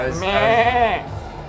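A loud, close, single wavering goat bleat plays during Goat Mania mode on a Stern Jurassic Park Pro pinball machine, lasting about a second.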